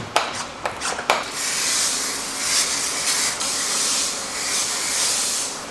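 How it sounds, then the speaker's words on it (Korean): A car's exterior is washed with spray at a car wash, opening with a few sharp bursts before settling into a steady, close, loud hiss of spraying water. "이제 매트 세정하면서 외부 세차를 진행할 겁니다."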